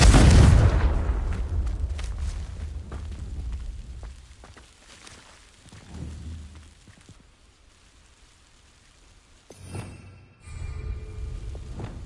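Confringo fire spell explosion in the video game Hogwarts Legacy: a loud deep boom that rumbles and fades over several seconds, followed by smaller thuds and crackling debris and a second low blast near the end.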